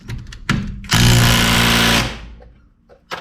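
Tightening a cinch bolt on a VW dropped spindle with a power tool, a loud close rattling impact-wrench burst of about one second, preceded and followed by short mechanical clanks.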